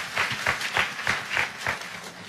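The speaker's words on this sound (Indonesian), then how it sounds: "Kita kasih tepuk tangan dulu yang meriah buat ibu." Congregation applause for mothers during a church sermon: a room of people clapping in unison with a steady rhythmic beat, about three claps per second, fairly loud and without speech.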